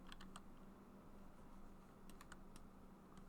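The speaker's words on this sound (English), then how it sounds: "You're typing in like 20 orders." Rapid clicks of computer keyboard typing come in bursts of keystrokes, close and moderately loud, as orders are entered during an online Diplomacy game, with a steady low hum underneath.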